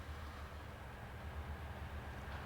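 A Guilford freight train approaches Binghamton from the west, a low steady rumble of locomotive and rolling cars heard from a distance, constant and fairly faint with no talk.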